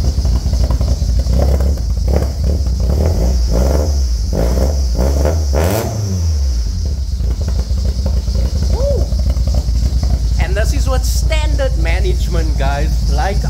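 A Volkswagen engine fitted with a racing cam revs at a VW show meet, its lumpy idle rising in a swelling rev amid outdoor crowd noise, with people talking nearby.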